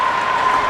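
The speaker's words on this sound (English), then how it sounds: "a fine round of applause as the Bridgewater-Raynham boy in lane 2 is finishing up here" Steady applause from a crowd at a high school swim meet as a Bridgewater-Raynham swimmer in lane 2 finishes his race, a continuous wash of clapping with no break.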